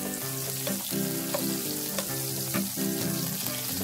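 A thick pork steak sizzles steadily in a hot pan, with a constant bright crackle running the whole time and a few louder spits, heard close up.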